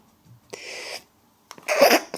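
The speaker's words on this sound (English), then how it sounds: "I think I'm going to sneeze." A person sneezes twice in quick succession, the second burst louder and sharper, close to the microphone.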